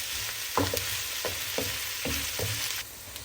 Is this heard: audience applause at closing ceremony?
no